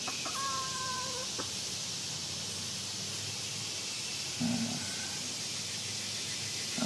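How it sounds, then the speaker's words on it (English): A white rooster clucks a few times outdoors, short nasal calls near the start and again a few seconds later over a steady background hiss, no talk. "What is that white rooster?"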